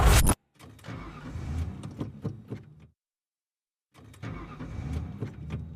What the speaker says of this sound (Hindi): ये गाड़ी क्यों नहीं स्टार्ट हो रही है?